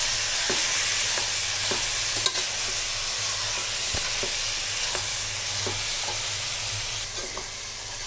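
Chicken pieces fried and stirred in masala in a pan, a constant sizzle with repeated scraping stirs of a spoon at an irregular rhythm, close and alone.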